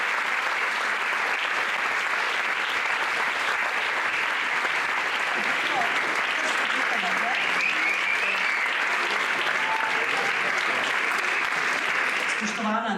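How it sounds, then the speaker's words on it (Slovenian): An audience at a children's dance revue claps steadily for the dancers as they gather on stage, a dense, even applause that holds at full strength for the whole stretch, with some voices mixed into the crowd. "lepo jih pozdravite z aplavzom"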